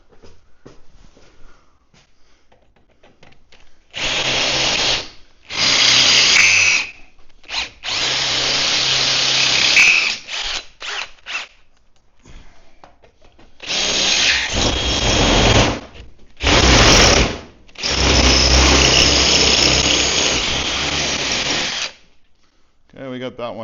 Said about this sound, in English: drill out the hole slightly larger so the rib nut can go in